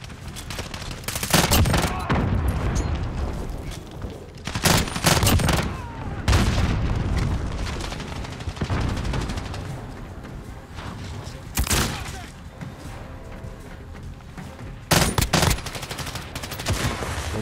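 Modern Warfare multiplayer gunfire erupts in repeated bursts, loud rapid volleys and booming shots separated by short lulls, with game ambience continuing between them.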